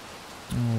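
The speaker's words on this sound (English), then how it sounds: "I mean, yeah, it's raining." Steady rain hiss from the video game Little Nightmares II, soft and even at first, then a louder low tonal rumble of game ambience swells in over the patter.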